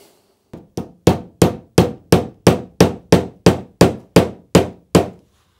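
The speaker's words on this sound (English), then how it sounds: "naughty hammer to do the job" A hammer drives nails into a wooden backboard at a miniature transport museum, giving a dozen loud, sharp knocks in an even rhythm after a couple of lighter starting taps.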